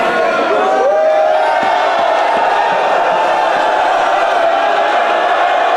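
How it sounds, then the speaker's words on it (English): A loud wrestling crowd roars at a Zero One Supreme event, with sustained cheering and whooping voices filling the arena continuously and close. "Well, we got a bit of a divided crowd."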